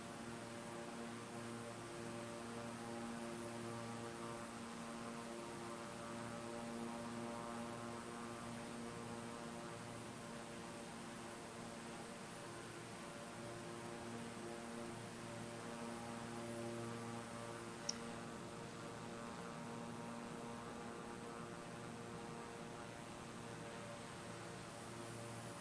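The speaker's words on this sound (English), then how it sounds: "I think, Sam, we are landing, just looking at the closest town," An A320 airliner on approach to land in a flight simulator game gives a faint, steady drone of engine hum, even and unbroken throughout with no voices over it.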